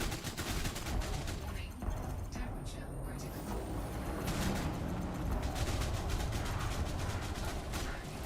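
Rapid volleys of shot cannons fired from a Corsair ship in Elite Dangerous, a dense rattling barrage of repeated blasts over a low engine rumble, steady and loud across the whole stretch.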